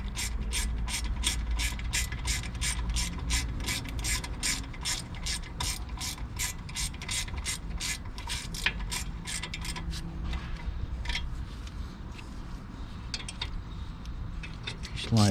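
A hand ratchet clicks in a fast, steady run of pawl ticks while seating a brake caliper slide pin on a Ford Escape front brake, close up and continuous, slowing and loosening toward the end.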